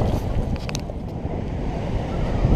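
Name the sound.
rough ocean waves at Surfers Paradise, Gold Coast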